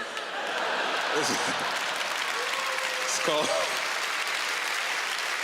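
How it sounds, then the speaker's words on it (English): Steady applause from a stand-up comedy audience fills the whole stretch, a dense wash of clapping with someone speaking briefly over it. "oh, you're clapping"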